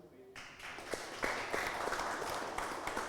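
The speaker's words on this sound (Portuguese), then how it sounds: "Vamos fazer um teste então. Batam palmas." An audience at a church gathering claps hands together in a dense, sustained patter with scattered sharper claps standing out, moderately loud and continuous throughout.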